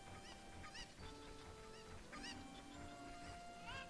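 Cuckoo chickens in a Zelda video game cluck and squawk in repeated short honking calls over a busy background of game sounds and music, with no speech heard.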